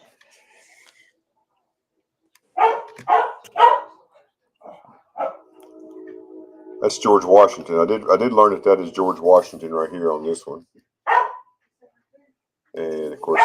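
A dog barks in short bursts, a few sharp barks early and then a quicker run of yipping barks, fairly close indoors, while someone talks about coins in between.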